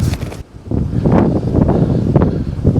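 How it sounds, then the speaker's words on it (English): Cold wind roars in a winter blizzard, loud, continuous gusting buffets the microphone with rough, rushing noise and a brief lull near the start. "That is a cold, cold wind."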